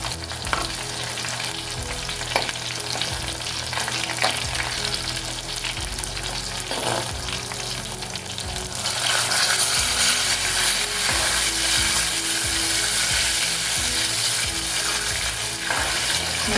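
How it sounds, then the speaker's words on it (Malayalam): Chilies frying in hot oil sizzle steadily, then boiled tamarind water is poured in and the hiss swells louder and brighter, continuing as a dense sizzle for a Kerala mulaka pachadi. "ഇനി അതിലേക്ക് നമ്മൾ തിളപ്പിച്ച് പിഴിഞ്ഞ് വെച്ചിരിക്കുന്ന പുളി ഒഴിച്ചു കൊടുക്കും."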